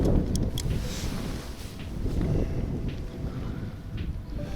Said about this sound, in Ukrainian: Звіявся такий вітер, що то просто капець, я заховався